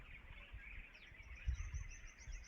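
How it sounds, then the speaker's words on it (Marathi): Faint, distant birds chirp in quick, high trills over a quiet outdoor background, with a soft low thump partway through. "सुंदर अशा पक्ष्यांचा किलबिलाट चालू आहे।"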